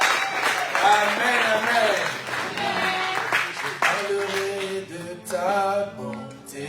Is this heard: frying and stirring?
no